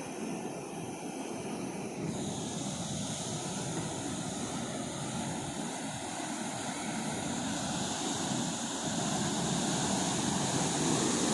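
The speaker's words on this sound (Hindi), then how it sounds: "बहुत पुरसकून और सिर्फ पानी की आवाज़ है।" Steady broadband rush of water pouring through open gates at the Head Qadirabad barrage, constant and enveloping, with a low rumble underneath and no voices.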